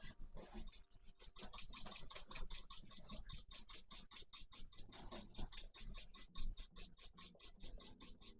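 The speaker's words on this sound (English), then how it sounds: "A pepper grinder?" A pepper grinder cracking peppercorns, a close, quiet, rapid rhythmic rasping and grinding that continues steadily throughout without talk.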